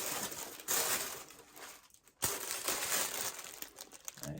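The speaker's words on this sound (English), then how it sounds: "Let's rip it." Close crinkling and tearing of Dior Homme parfum packaging being ripped open, papery rustles in bursts with a short pause midway, quiet and without talk.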